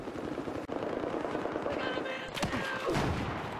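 AK-12 rifle fire in the video game Battlefield 4: bursts of gunshots at moderate distance amid a busy battle soundscape with distant rotor-like droning and a sharp crack near the middle.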